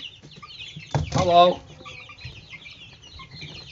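Backyard hens cluck and squawk in a short close burst, with softer bird chatter around it and a person speaking briefly nearby.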